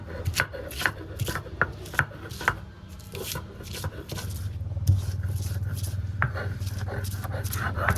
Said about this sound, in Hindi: अदरक लहसुन हमारे अच्छे से पिस गए हैं।